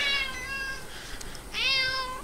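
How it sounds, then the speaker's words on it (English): A fat cat meows twice at close range, first a long drawn-out call, then a second rising one after a short pause, with no talking. "And my fat cat."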